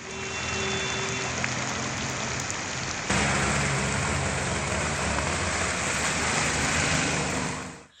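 Heavy rain pours steadily in Coimbatore city, a dense, loud, continuous wash of rainfall with a faint engine hum beneath, swelling slightly partway through before fading at the end.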